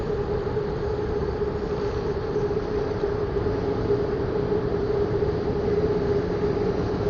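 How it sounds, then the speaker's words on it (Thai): An elevated train rolls past in Bangkok, curving toward Victory Monument station. A steady, loud rumble with a sustained tonal hum holds even throughout, with no voices over it. "เดี๋ยวจะให้ดูรถไฟ"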